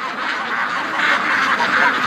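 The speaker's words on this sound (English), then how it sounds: "They got some pretty happy quacks happening." A small flock of domestic ducks quacking together in a dense, continuous chorus, close and loud, with no talking over it.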